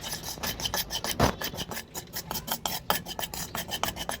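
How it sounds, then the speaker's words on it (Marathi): Rice flour dry-roasting in a pan as it is stirred, giving soft, rhythmic rasping scrapes of a spoon against the pan bottom, close and fairly quiet, repeating steadily. "1 वाटी तांदळाचं पीठही भाजून घेणार आहोत. ते पण लालसर होईपर्यंत आपण भाजून घेऊयात."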